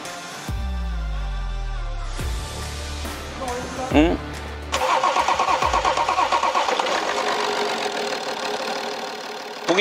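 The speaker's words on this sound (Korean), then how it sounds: "엔진 소리가 완전 부드러워." A BMW X3 engine cranks and catches after an engine replacement, settling into a steady, smooth idle with a few revs, recorded up close in a repair shop.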